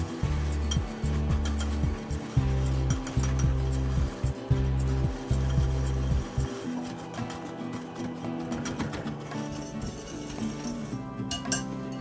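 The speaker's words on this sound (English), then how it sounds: "Stir and break up any clumps until your essential oil and dry ingredients are fully mixed" Dry homemade dishwasher powder ingredients with essential oil being stirred in a container, loud close clinking and scraping of a utensil in a steady rhythm, then quieter gritty rustling, no speech.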